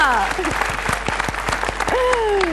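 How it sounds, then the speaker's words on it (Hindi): Studio audience applause on a Hindi game show, a bright burst of clapping heard under sustained musical tones and sweeping stings, loud and close. "तालियां।"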